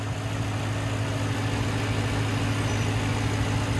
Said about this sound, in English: And there is that 4-liter twin turbo V8.